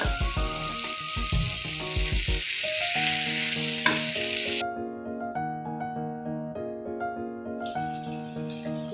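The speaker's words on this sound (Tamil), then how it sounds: "லோ ஃப்ளேம்லேயே கிளறிட்டு மூடி போட்டு நல்லா எண்ணெய் சுருளில் வதக்கணும்." Potato masala stirred and sautéed in oil over a low flame, a steady sizzle with spoon scrapes, under continuous background music with sustained melodic tones throughout.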